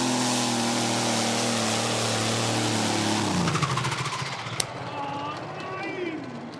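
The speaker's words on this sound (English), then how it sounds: "And that doesn't sound good. The engine, the RPMs broke down." Pulling tractor engine at a tractor pulling event in Knutwil, a loud sustained roar that falters partway through as the revs drop away into rough, uneven sputtering and mechanical rattle, with a commentator talking over it.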